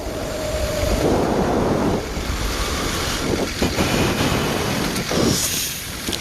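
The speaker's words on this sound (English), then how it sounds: "Wind's looking a little twitchy." Steady wind buffets the microphone at an open paragliding landing field beside a golf area, a loud continuous roar with gusty surges and rumbling low-end bursts throughout.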